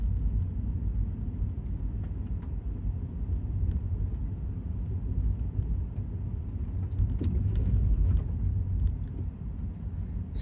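Interior drone of a Tesla car driving on FSD Beta, a steady low road rumble and tyre hum that holds throughout and swells slightly near the end, with faint clicks and no talking.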